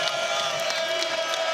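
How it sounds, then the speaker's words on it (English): Basketball arena crowd and student section at a Big 12 men's game between TCU and Oklahoma State cheer loudly in a dense, continuous roar. "Now the crowd is getting into it."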